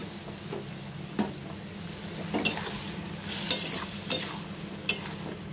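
Curry of gram-dal fritters with ridge gourd and potato simmering in a pan after a little ghee is added, stirred with a spoon that scrapes in several distinct strokes over a steady low sizzle, close and moderately loud.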